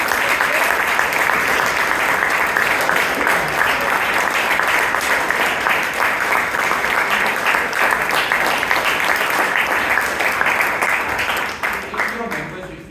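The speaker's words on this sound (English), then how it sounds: "give them a big round of applause." Audience at a Bangalore Toastmasters club meeting applauding its presidents, steady sustained clapping from a full room that fades out at the end.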